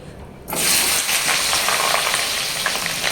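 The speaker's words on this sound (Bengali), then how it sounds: "আলুগুলো আগে ভেজে নিই ভেজে তুলে নিয়ে" Potatoes dropped into hot oil in a pan erupt into a loud, close, continuous sizzle that starts abruptly after a quieter moment and keeps crackling steadily.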